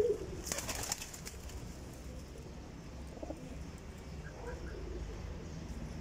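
A desi pigeon coos softly in the background, with faint flapping and chirps near the start and a steady low murmur throughout.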